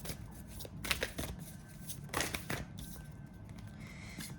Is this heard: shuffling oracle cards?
yes